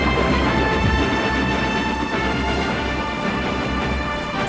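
A steam engine hauls smoldering, burning wagons along the rails, its steady rumble and rolling rail noise loud and continuous, with faint metallic ringing overhead throughout.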